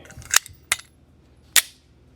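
A Shadow Systems CR920XP compensated pistol fires at an outdoor range, with three sharp, close shots in an uneven rhythm, two in quick succession and a third after a short pause, alone without talk.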